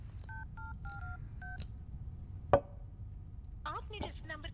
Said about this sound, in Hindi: जिग्नेश को फोन करता हूँ